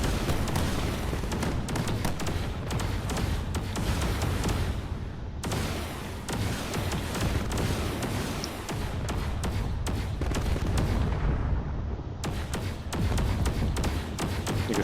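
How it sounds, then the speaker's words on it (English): Spaceship turrets fire nonstop during a space battle in a video game, a dense rapid barrage of thumping shots and booms that stays loud throughout, with brief lulls. "You can see all these turrets are just working overtime trying to take out everything they can."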